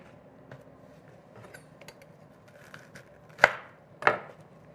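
A knife slices through vegetable bulbs on a cutting board, two sharp, close chopping thumps near the end following quieter handling and board noises.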